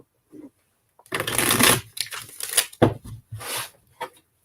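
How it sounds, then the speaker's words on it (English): Playing cards being shuffled close up, with several quick riffling bursts and soft pauses between them. "I'm going to shuffle up here for you."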